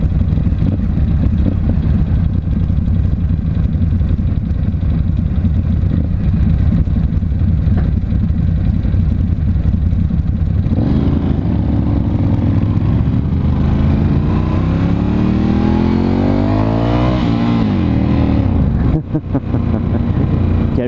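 A Ducati Scrambler 1100 Special motorcycle engine idles loudly, then revs up and down in rising and falling sweeps, close by, with a brief drop near the end.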